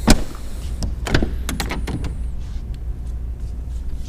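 Door of a 2009-2018 RAM truck being opened and closed after lubrication, with no squeak. Several sharp clicks and thuds from the latch and hinge sound in quick succession against a steady low hum, then settle into quiet.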